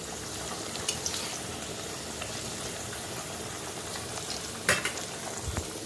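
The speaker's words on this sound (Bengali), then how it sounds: "তাহলে বসিয়ে দিই ভাজাভুজি এগুলো" Continuous sizzling of snacks frying in a pan close by, with occasional scraping stirs and a sharper clatter near the end.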